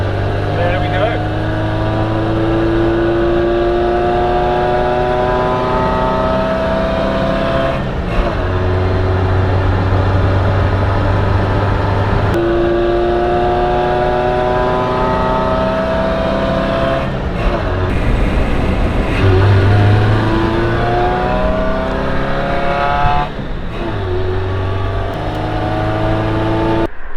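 A camper van's engine revs hard on a rolling road dyno, its rising and falling harmonic whine rolling through repeated throttle sweeps, loud and continuous, with a voice talking over it at times.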